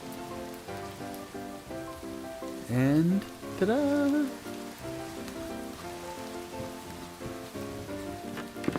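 A rain storm in a video game gives a steady, even hiss of falling rain under tonal game music, with a short spoken exclamation partway through.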